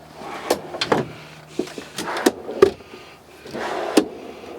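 A slide-out pantry in a 2018 Roadtrek RS Adventurous Class B diesel camper van is pulled open and pushed shut, giving a series of close knocks, clicks and short sliding rubs at an irregular pace in a quiet cabin.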